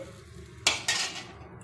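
Gulab jamun sweets being mixed into sugar syrup in a pot: two quick metallic clatters of a utensil against the pot, close and clear, over a quiet room hum.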